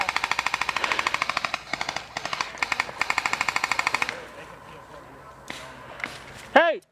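Airsoft guns at an outdoor airsoft game lay down cover fire in rapid, evenly spaced bursts of sharp cracks for about four seconds. Quieter rustling and movement follow, then a voice near the end.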